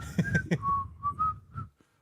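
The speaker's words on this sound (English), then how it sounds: "I can whistle remarkably well for having no lips." A person whistles a short wavering tune close by, with sliding pitched notes in uneven phrases, over soft low thumps, before trailing off into quiet.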